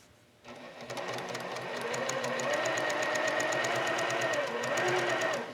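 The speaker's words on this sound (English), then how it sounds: "we'll move to the machine and sew one of our units together" A sewing machine starts after a short pause and stitches steadily, its motor whirring with a rapid regular needle clatter up close, joining a quilt block of half-square triangles pieced a quarter inch from the edge.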